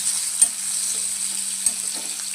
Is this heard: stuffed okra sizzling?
yes